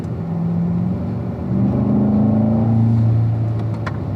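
A 2017 Corvette Stingray C7 Z51 accelerating out of a corner on a track, with a steady engine drone that rises in pitch as it pulls through the gears, heard from inside the car.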